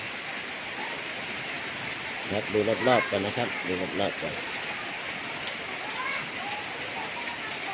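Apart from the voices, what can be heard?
rain falling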